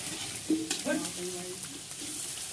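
Khoa stirred and fried in a karahi wok, a quiet sizzle with soft scraping stirs and a few small clatters.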